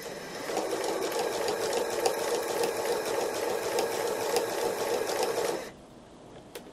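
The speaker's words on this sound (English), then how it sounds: "we're going to stitch nice and smoothly all the way to the bottom" Steady, rapid whirring of a sewing machine doing free motion embroidery, stitching a heart shape in one smooth continuous run for several seconds, close and clear, then stopping abruptly into quiet room tone.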